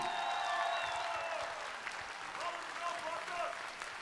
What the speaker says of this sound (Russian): Колымжан, прошу в центр бурные аплодисменты